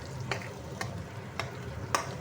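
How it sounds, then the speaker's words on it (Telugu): Egg bhurji frying in a pan with a steady low sizzle, broken by four sharp scraping strokes of a spatula as the egg is stirred, close and alone. "ఇది ఇట్లా ఫ్రై అవుతుంది కదా ఫ్రెండ్స్, ఇది చూడండి."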